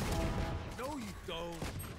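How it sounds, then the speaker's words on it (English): Weapon reload in Valorant, a quick run of mechanical clicks and metallic ratcheting, close and loud over busy game noise and a short tonal effect. "Reloading."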